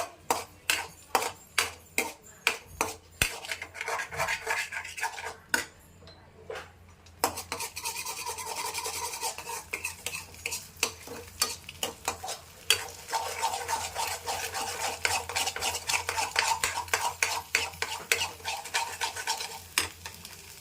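A spoon stirs egg rice in a pan, scraping in a long run of quick rhythmic strokes, then a short pause, then steady close scraping and stirring under a faint sizzle.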